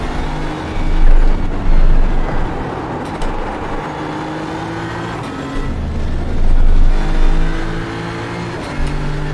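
Mercedes GT3 race car engine in iRacing at Sebring, loud revving that swells and drops as it accelerates through gears, with a second car's engine passing close by.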